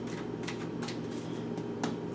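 Tarot cards being shuffled by hand, a soft papery riffling with a few brighter flicks over a low steady hum, quiet and close with no speech.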